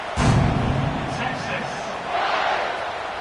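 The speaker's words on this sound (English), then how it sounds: "this crowd is feeling themselves after that last drive" Stadium crowd in the College Football 26 video game roaring steadily, a broad far-off cheer with a swell near the start and another later, with commentary voices mixed in.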